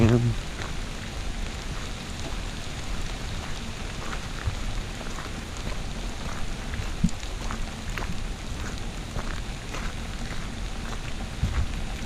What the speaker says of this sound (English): It's been raining since probably about